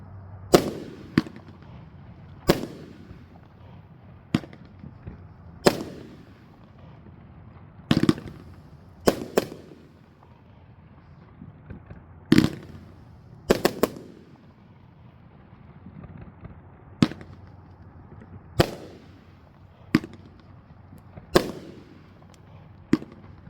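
A Nuclear 21 Bomb 500g firework cake going off outdoors, with a series of loud, sharp bangs firing at irregular intervals about one to three seconds apart, some in quick doubles, each trailed by a brief crackle and fading echo.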